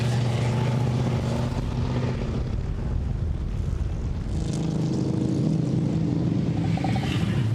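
The big Delage V12 racing car on a historic circuit roars past with a loud, dense, sustained engine drone, swelling as it sweeps by and tailing off, with no one talking.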